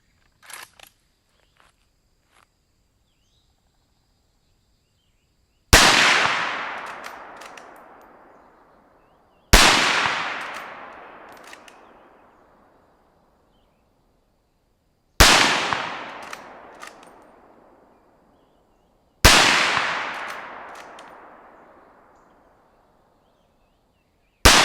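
A Carcano M1891 rifle fires rounds from a six-round M-block clip: loud, sharp cracks spaced a few seconds apart, each trailing off in a long echoing decay, with a final shot starting just at the end.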